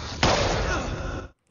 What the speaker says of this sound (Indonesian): Tiba-tiba sebuah tembakan menargetkan EJR.